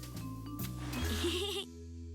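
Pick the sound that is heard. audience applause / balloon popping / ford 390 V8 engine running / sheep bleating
sheep bleating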